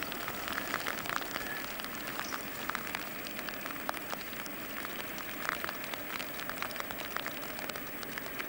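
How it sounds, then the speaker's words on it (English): Rain falls steadily in the Hunter region, a dense continuous patter with scattered sharper drops hitting surfaces, no voices. "Rain."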